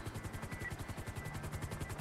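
A helicopter's rotor thumps in a fast, steady rhythm with a constant engine whine, sounding close and continuous at moderate volume, in GTA 5.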